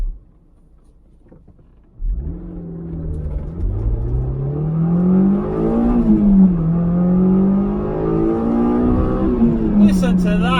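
A sports car built like a high-powered MX-5 fires up out of near silence and accelerates hard, the engine climbing through several revving surges and gear changes, loud and close, with a brief clatter at the end.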